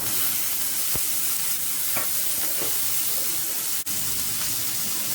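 Onions and tomatoes sautéing in a pan for ivy gourd chutney, a steady close hiss of frying broken by a few faint scrapes of stirring, with no voices.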